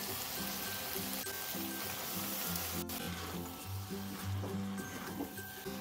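Boiled banana flower tipped into oil-rich fried spice paste in a pan for a Bengali mochar ghonto with prawns, setting off a steady close sizzle and crackle that runs throughout, with faint tonal sounds behind it.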